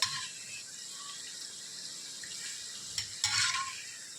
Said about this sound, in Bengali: আমাদের খাজা ভাজা হচ্ছে আর এখানে কিছুটা খাজা ভাজা ভেজে কিন্তু তুলে নিয়েছি